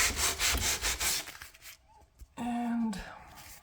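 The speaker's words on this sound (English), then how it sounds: "I kind of want to do it like back and forth instead of just up and down, because it will cut my sandpaper" Wood window trim being sanded by hand with sandpaper in a farmhouse renovation, with rhythmic back-and-forth rasping strokes up close that pause and then resume as one longer rub, and brief faint talk in the gap.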